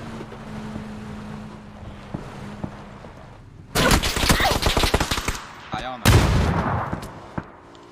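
Bursts of rapid automatic gunfire in an online battle-royale shooter break out loud and close after a stretch of low ambient noise, with a second burst following.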